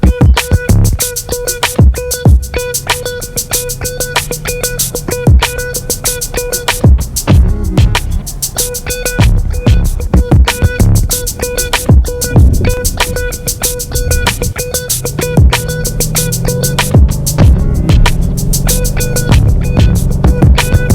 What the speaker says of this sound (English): now it's time to go for the test drive and see how this vehicle feels